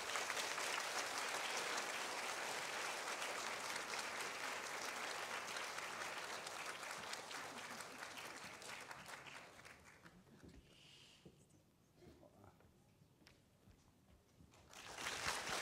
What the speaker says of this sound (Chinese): 那么我们现在就以热烈的掌声来欢迎冯磊博士。